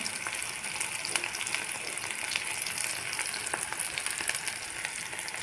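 Black pepper and cumin seeds crackle and sizzle in hot oil as the tempering for a mint chutney, a steady bright hiss with scattered sharp pops running throughout, fairly soft and close with no voices.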